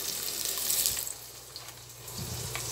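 Tap water streams steadily into a cooking pot while fish stew is being prepared in a kitchen, a close, continuous hiss of running water with no talking.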